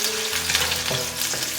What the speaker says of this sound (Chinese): 把干葱头跟姜片放进来爆香